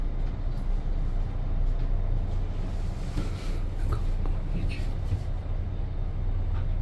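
Steady rumble and rattle inside a moving train carriage, continuous and even throughout, with faint voices mixed in.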